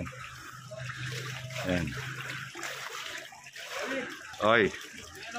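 People wading through waist-deep floodwater on the way to a barangay hall in Masantol, Pampanga, with sloshing and splashing steps, close by and intermittent, and brief exclamations from people.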